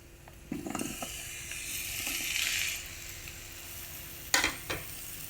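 Lemon curry stirred in a pan after lemon is added: soft scraping spoon strokes over a quiet sizzle, then a couple of sharper clinks against the pan near the end, with no voices.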